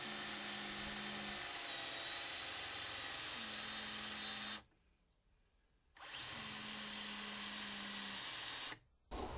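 A power drill runs into a wooden desk organizer in three long, steady whining bursts, with short pauses between them and a brief stop near the end.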